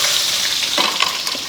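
Urad dal, mustard seeds and dried chillies sizzle loudly in hot oil, a dense crackling hiss with small pops and bursts of spluttering, up close and without talk.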